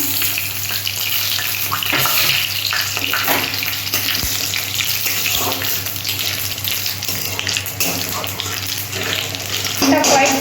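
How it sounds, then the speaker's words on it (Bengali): Cumin seeds, bay leaf and dried red chillies crackling and spitting in hot oil for tempering, a loud continuous sizzle with occasional stirring knocks throughout. "এখানে জিরে তেজপাতা শুকনো লঙ্কা আছে আমি ফোড়নে দিয়ে দিলাম"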